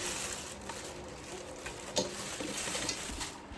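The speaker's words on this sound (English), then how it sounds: "So have some boiling water here." Water boils in a pot nearby, a steady bubbling hiss with a few louder pops and clinks.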